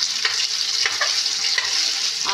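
Paneer fries in oil with whole cumin, ginger and green chili, a loud close sizzle with quick crackles and stirring scrapes throughout.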